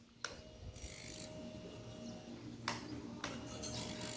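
A motorcycle's fuel injection system buzzes and clicks after the ignition is switched on, with a few sharp mechanical ticks over a steady low whirring hum, close up and fairly quiet.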